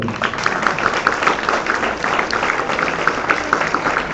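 Sunday congregation at a Christian church applauding, busy crisp clapping at a steady level throughout the short stretch, moderately loud with no talk on top.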